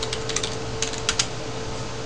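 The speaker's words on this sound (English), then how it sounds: "And I'll go ahead and type in a password." Password being typed on a computer keyboard during a Windows Server 2008 setup, a short run of light, close key clicks in small bursts over a low steady hum.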